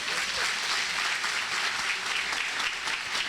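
A church congregation claps hard and continuously during a worship service, a dense steady roar of applause with no pauses.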